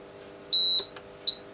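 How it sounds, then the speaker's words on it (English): Agilent E3646A bench power supply giving a clear single electronic beep at power-up during its self-test, steady and close for about a quarter second, followed by a second shorter beep. "give it a second to beep."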